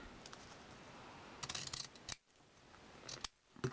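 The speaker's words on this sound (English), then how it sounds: "and then I'm gonna cut it at an angle" Scissors snip through fabric ties for a baby bib at an angle, giving a few quick, crisp cuts close up against a quiet background with no speech.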